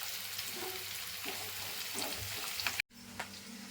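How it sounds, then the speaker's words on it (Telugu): Tomato curry frying and being stirred in a pan, a steady close sizzle with scraping stirs throughout, briefly cut off near the end before resuming. "ఫ్రెండ్స్ కొంచెం అయితే బ్రౌన్ కలర్ అయ్యేదాకా అయితే ఫ్రై చేసుకోవాలి"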